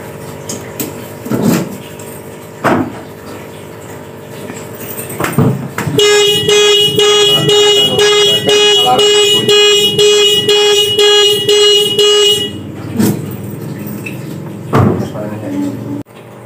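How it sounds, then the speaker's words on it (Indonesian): A car alarm blares in a fast, steady pulsing tone for several seconds after a locked car door is opened by hand, set between clunks of door and handle movement, with a person talking nearby before and after. "kalau dibuka secara manual akan menyebabkan alarm berbunyi"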